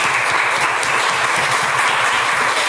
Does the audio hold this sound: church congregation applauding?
yes